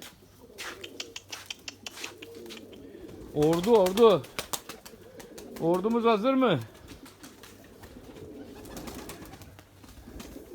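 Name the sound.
pigeons cooing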